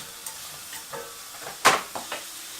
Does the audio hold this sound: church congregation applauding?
no